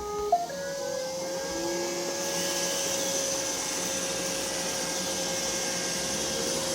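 A Roomba robot vacuum cleaner spot-cleaning spilled rice runs with a steady, loud motor whir that holds constant after a brief start-up click, with no voices.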